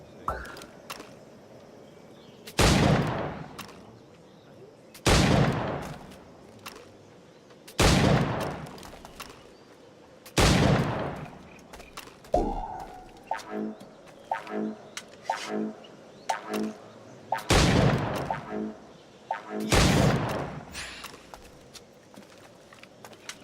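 Video game gunfire, where a timed target challenge sets off about eight loud, evenly spaced single shots with a short reload clatter between them.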